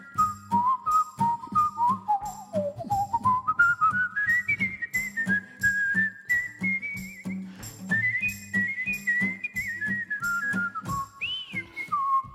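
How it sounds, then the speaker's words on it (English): A person whistles a clear, wandering melody that rises and falls, set against a steady low instrumental backing with a rhythmic pulse underneath. "I'll whistle."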